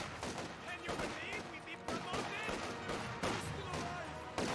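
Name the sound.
squads firing guns in the video game Company of Heroes 2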